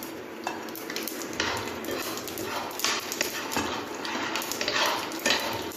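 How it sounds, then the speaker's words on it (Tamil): Fennel seeds frying in hot oil in a pan while cooking tomato rice, giving a steady close sizzle with crackling and a few scraping stirs and utensil clicks, no talking. "பின்னர் அதனுடன் பெருஞ்சீரகத்தையும் இட்டு பொரிய விட வேண்டும்."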